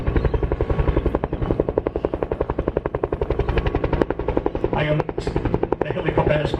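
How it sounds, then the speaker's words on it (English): A Huey helicopter on approach to a landing pad at a Vietnam War veterans' event, its loud rapid rotor thump pulsing steadily throughout, close and dominant, with voices briefly audible near the end. "The helicopter has quite a steep approach angle, it's about 8 degrees."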